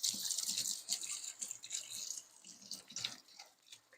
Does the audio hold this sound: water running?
yes